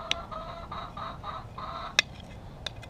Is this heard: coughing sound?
no